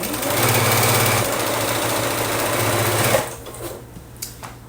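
Sewing machine stitching a quilt block seam, running with a steady rapid mechanical hum that slows and stops after about three seconds, leaving faint handling clicks.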